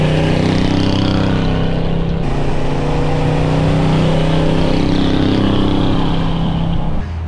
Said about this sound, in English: So you got to hear a little bit of the sound there in the driving clips, the drive-bys